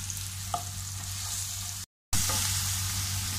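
Oil frying in a pan for a Kerala potato stir-fry, a soft steady sizzle with one small pop, briefly cut to silence before the hiss resumes, close and quiet.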